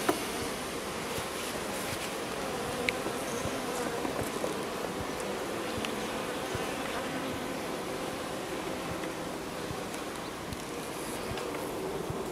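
Bees buzz in a steady, soft drone around a hive in an apiary in early August, with faint rustling and scattered brief ticks underneath.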